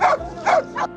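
Water rescue dogs at a canine rescue school in Trieste bark three times in quick succession, close and fairly loud, with short pauses between barks.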